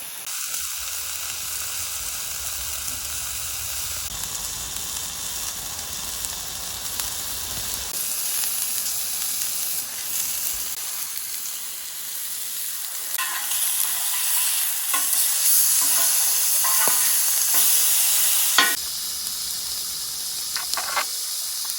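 Pork chops, corn and asparagus cooking on a grill at a campsite, giving a continuous sizzling, hissing fry that stays steady and moderately close throughout, with no talking.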